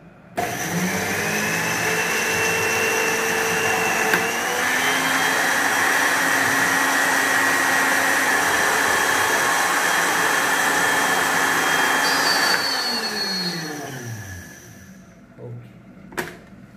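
Two teaspoons of cumin seed ground into powder in an electric grinder, a loud continuous motor whine running for about twelve seconds with a slight pitch shift, then spinning down, followed by a couple of clicks.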